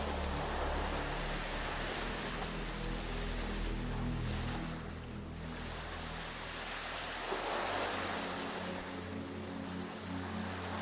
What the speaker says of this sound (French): Le bruit des vagues est régulier, apaisant. Vous entendez leur va-et-vient constant.